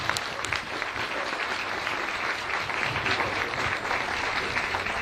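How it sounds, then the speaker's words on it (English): Audience applause for a speaker at an ecommerce mastermind event, a continuous wash of clapping from a room full of people, steady and fairly close throughout. "Let's give him a round of applause."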